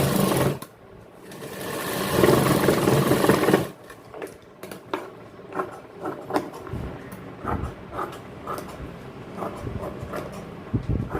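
An industrial sewing machine stitches a 34-inch modelling jacket in a tailoring shop, opening with a long steady whirring run, then continuing in short stop-start bursts and clicks, close by with no talk.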